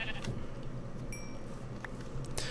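Sheep bleating in the video game Minecraft, a few short bleats over a steady background with faint game sounds, no talk.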